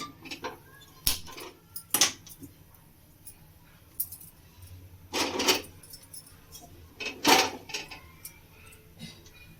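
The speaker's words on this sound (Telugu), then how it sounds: "ఇప్పుడు మనం పకోడీ వేయించుకోవడానికి స్టవ్ వెలిగించి బాండీ పెడదాం." Stove being lit and a metal frying pan (bandi) set down for frying drumstick-leaf pakodi in a home kitchen: scattered clinks and clatters of cookware, a few sharper metallic knocks, with quiet gaps between.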